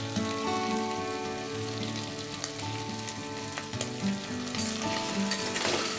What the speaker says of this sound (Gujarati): આછા ગુલાબી રંગના થાય ત્યાં સુધી સાતળવાના છે